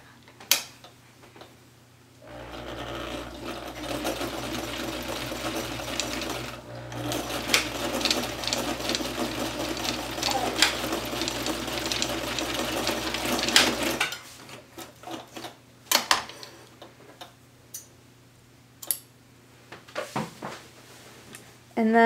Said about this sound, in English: I'm going to sew this back and forth a couple times just to make sure it's nice and secure